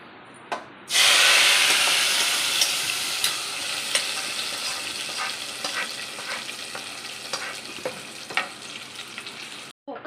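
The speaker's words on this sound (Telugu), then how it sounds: "ఇలా పోపు మంచిగా ఫ్రై చేసుకోవాలి గోల్డెన్ బ్రౌన్ వచ్చే వరకు" Popu tempering for gongura pappu sizzles in hot oil while frying until golden brown, a loud steady hiss that starts abruptly after a brief pause, with light stirring clicks and spatters scattered through it, no talk.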